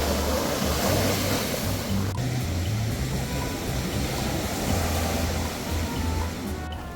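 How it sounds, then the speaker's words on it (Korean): Steady ocean surf rolls in at Gangneung beach on a mild day, a broad continuous wash of breaking waves with a low rumble underneath, close and constant. "파도가 너무 멋있고"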